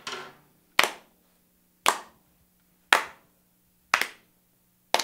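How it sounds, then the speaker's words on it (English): An audience clapping along in unison, six sharp, evenly spaced claps about one second apart with silence between them. "Then you get the audience to clap."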